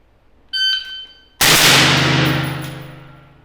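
An electronic shot-timer beep is followed by a rifle firing two very fast shots that blur into one loud, sharp blast with a long ringing decay.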